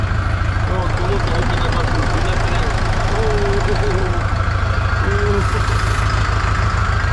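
A homemade Scout TE-504 cultivator driving across a green garden plot in second gear with front-axle drive engaged, its engine chugging loudly and steadily with a rapid, rough pulsing rhythm throughout.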